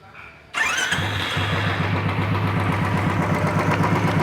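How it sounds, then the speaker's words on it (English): A Royal Enfield Bullet motorcycle engine cranks and fires up loudly after a brief quiet moment, then settles into a steady, thumping idle close by, with no speech. "So let's just start our bike and let's see how it performs."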